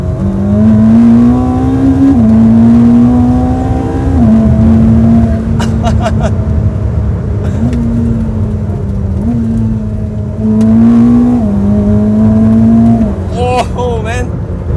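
A Ferrari SF90 Stradale, the 1000 hp four-wheel-drive hybrid with a 780 hp V8, accelerates hard from 50. The engine note is loud, close and droning, with a quick gear shift about every two seconds and a brief whine near the end.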